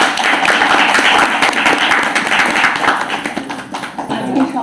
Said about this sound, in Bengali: একটা জোরে হাততালি বিবেকদাকে